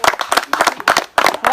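A small audience clapping at a local community fair, a short burst of uneven hand claps arriving in several close clusters, fairly near and loud, with no one talking over it.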